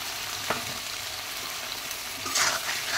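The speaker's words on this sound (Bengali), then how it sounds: "এবার দিয়ে দেবো আমি সেদ্ধ করে রাখা কলা" Boiled plantain goes into a pan of spiced masala frying in oil, giving a steady close sizzle with a few brief stirring scrapes and a louder hiss near the end.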